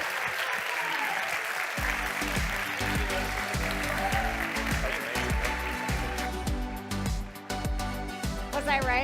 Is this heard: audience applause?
yes